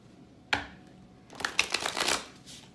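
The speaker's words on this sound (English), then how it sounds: "let me just shuffle the deck a few times" A deck of tarot cards gets a single sharp tap, then a quick riffling flutter of cards shuffled together, close and crisp, with no talking.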